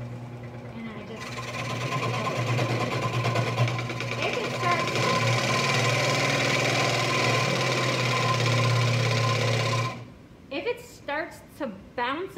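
A scroll saw hums and buzzes steadily as it cuts wood for about nine seconds, then stops, followed by a few short voiced bursts.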